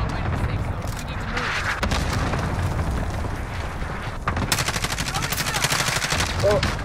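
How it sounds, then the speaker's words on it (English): Bursts of automatic gunfire in a multiplayer video game crackle continuously, with sharper, denser volleys in the second half over steady game ambience, and a player talks over it. "Oh, they're shooting on me."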